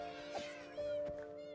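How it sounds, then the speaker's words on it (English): Minecraft cat meows in a game world, a couple of short pitched mewing calls over a steady synthetic tone and background music, fairly quiet. "Where are the cats, Riz?"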